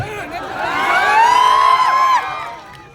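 A crowd in Jasdan cheers, whoops and shouts in welcome for a man called forward, rising to a loud, sustained peak before fading, with children's voices among the excited noise.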